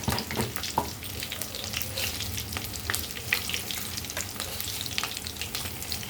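Steady loud sizzling of tempering spices dropped into hot oil in a pan, with crackling pops and spattering throughout, close up and without talk.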